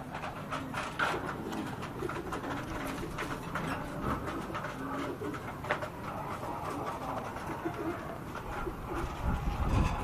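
Racing pigeons coo softly and steadily inside a loft, a continuous murmur of calls over a busy broadband background with no clear talk.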